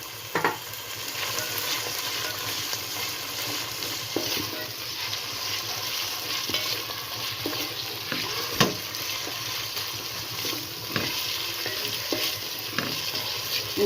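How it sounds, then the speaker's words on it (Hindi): Green chilli and green onion being stirred into sarson ka saag frying in a pan, with a continuous sizzle and repeated scraping stirs, close up and with no talk. "ग्रीन चिल्ली और ग्रीन अनियन, ये अब सब चीजें हमने मिक्स कर देनी है इसमें"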